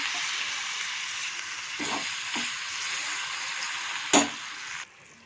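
Tomatoes sizzling and frying in a pan with masala and ginger-garlic paste, a steady hissing crackle with occasional stirring scrapes and a sharp clatter near the end before the sizzle drops.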